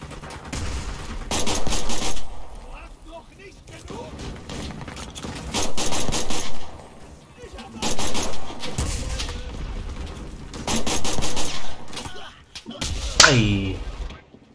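Bursts of automatic machine gun fire in Enlisted, a Stalingrad street battle, come in several sustained volleys with short pauses between them, loud and close, amid scattered other gunfire.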